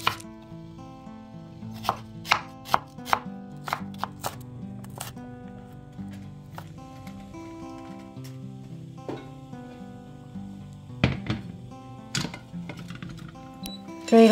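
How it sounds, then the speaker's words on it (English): A knife chopping peeled garlic cloves and slicing an onion on a cutting board, a run of sharp close taps, irregular and spaced, with quieter gaps between bursts and a few loud strokes. "Peel and wash 3 cloves of garlic roughly chopped."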